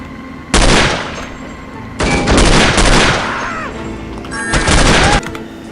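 Three bursts of loud video-game gunfire from No One Lives Forever, each a dense volley lasting about a second, spaced a second or two apart, with a brief trailing rattle between the second and third.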